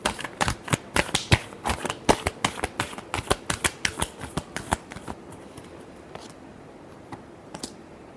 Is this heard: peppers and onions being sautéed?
no